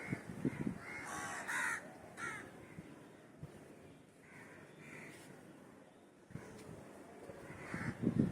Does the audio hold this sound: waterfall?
no